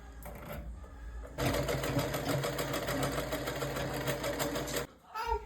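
Sewing machine stitching at a steady fast rate, a close mechanical whirring and rhythmic clatter that starts abruptly after a brief quieter stretch and stops just before the end, with faint voices around it.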